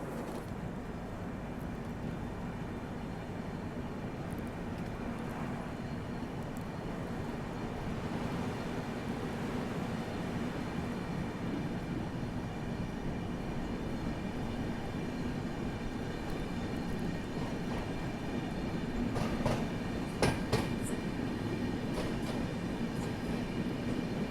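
Humsafar Express rumbling steadily into Chakradharpur station, a continuous near rail roar with faint clicks and a brief metallic squeal late on; no one speaks.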